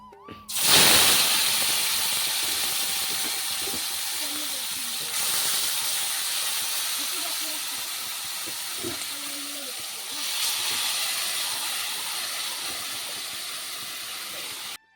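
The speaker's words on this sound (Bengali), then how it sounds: "কড়াইতে দিয়ে এখন ভালোভাবে নাড়াচাড়া করে নিচ্ছি" Bhetki fish frying in hot oil in a wok while being stirred, for a Noakhali-style dish: a sudden loud hiss bursts in near the start and holds as a strong, steady sizzle, swelling slightly twice, with faint stirring knocks beneath.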